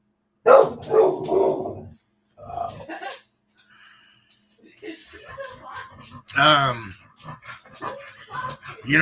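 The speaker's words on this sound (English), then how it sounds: "How come you barking at food now too?" A dog barking at its food, several loud close barks and yips mixed with whimpers, interleaved with someone talking over it.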